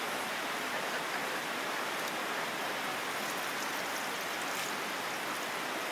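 Water sloshing and pouring steadily as a soapy chicken is rinsed in a bucket, a continuous close splashing wash with no voices.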